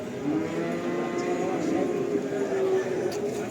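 A thin, sick cow at a cattle market gives a long, drawn-out low moo close by, sustained for several seconds over faint background murmur.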